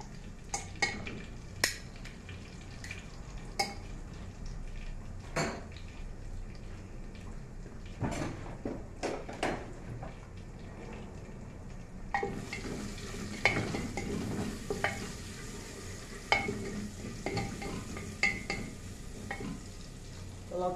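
Garlic frying and browning in a pan gives a steady low sizzle, broken by sharp clicks and taps of stirring; the sizzle grows brighter and denser partway through, with no talking.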